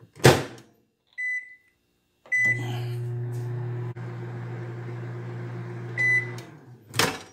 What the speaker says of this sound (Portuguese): micro-ondas de 10 em 10 segundos